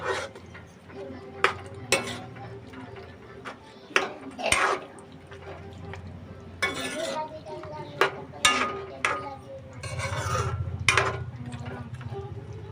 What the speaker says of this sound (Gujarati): અને હવે આપણે હલાવીશું ઘડીક